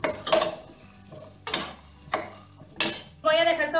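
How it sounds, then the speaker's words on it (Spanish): A utensil stirring carrot in oil in a pan while making Chinese-style spaghetti with chicken: a handful of separate clinks and scrapes against the metal, spaced irregularly, fairly faint, with a sizzling edge near the end. "Y voy a mezclar de esta manera para que se integre el aceite."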